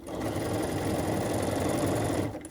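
A sewing machine stitching quilt petals runs in one continuous, even whir of fast needle strokes, close up and steady throughout before it cuts off at the end.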